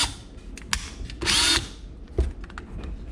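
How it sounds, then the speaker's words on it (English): A DeWalt power drill whirs in a short burst of about half a second amid quiet clicks and handling knocks, fairly close. "so this is a drill and this is a DeWalt obviously."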